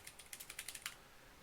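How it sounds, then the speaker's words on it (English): Quick bursts of keystrokes on a computer keyboard, about ten crisp clicks in an uneven rhythm over a second, close and fairly quiet, followed by near silence. "You probably heard me typing that"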